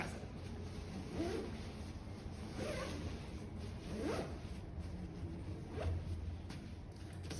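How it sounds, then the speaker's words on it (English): A compression packing cube being zipped shut in several slow, rasping pulls, the zipper teeth buzzing close and clear against a quiet room. "zip this zipper to compress"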